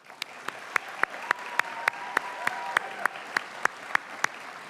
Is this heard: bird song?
no